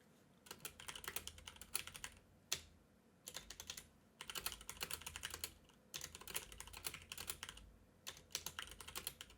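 Rapid clacking keystrokes on a worn, faulty computer keyboard, typed in bursts of a second or two separated by brief pauses, close and quiet with no voices.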